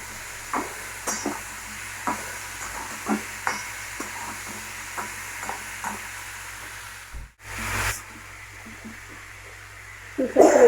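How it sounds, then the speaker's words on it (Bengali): Green chillies and chopped tomato are stirred in a frying pan, giving a string of soft spatula scrapes and knocks over a faint, constant sizzle, with a brief louder hiss near the end. "দিয়ে দেবো কটা কাঁচা লঙ্কা, আর দেবো টমেটো কুচি। ভালো করে একটু মজিয়ে নেবো।"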